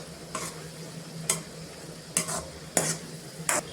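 Chana dal and palak being stirred and mixed in a pan over low sizzling, with five short scraping strokes of a spoon at an irregular pace, close and fairly quiet.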